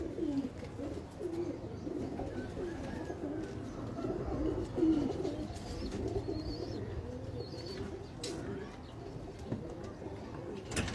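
Pigeons, breeders and high-flying birds, coo softly and repeatedly in a loft, with several overlapping low calls and occasional wing rustles under faint background chatter.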